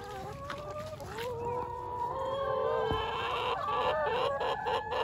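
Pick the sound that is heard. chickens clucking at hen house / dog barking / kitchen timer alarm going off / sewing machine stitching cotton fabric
chickens clucking at hen house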